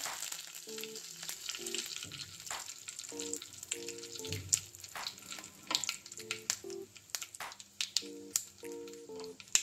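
Curry leaves fry in hot oil for a chutney tempering, with a steady crackling sizzle full of sharp pops and spits, close by and alone, with faint tonal beeps mixed in.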